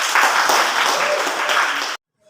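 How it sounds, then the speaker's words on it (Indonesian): Children in a classroom clap together in a brief, lively burst of applause lasting about two seconds before stopping abruptly into silence. "Tepuk tangan dulu."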